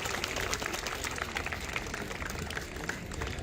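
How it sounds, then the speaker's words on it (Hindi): An audience applauds steadily to welcome a speaker at a public event with a chief minister on stage, a dense wash of clapping that fills the whole stretch at moderate level without any voices. "एक बार जोरदार तालियों से आइए सर का अभिनंदन।"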